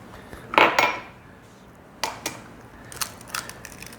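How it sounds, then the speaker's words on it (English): Eggs cracked into a bowl for a Jack Daniel's chocolate pecan pie: a sharp shell tap and clatter of bowl contact up front, then a few lighter clicks and taps, close and fairly clear with no talking. "I've got 4 eggs here that I'm going to put in first"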